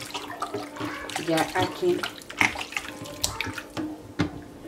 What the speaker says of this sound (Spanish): voy a tirarle el agua y lo voy a volver a enjuagar